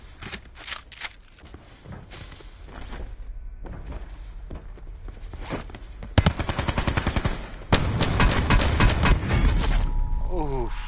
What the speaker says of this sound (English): 4 pumps with the SG-12.